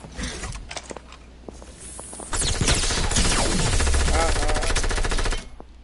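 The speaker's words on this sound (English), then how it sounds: "the minigun's broken. It's like not even funny anymore. Did not nerf that. I could still hear it shooting." Minigun in a video game spinning up and firing a continuous, loud, dense stream of rounds for about three seconds after scattered lighter shots, then cutting off abruptly.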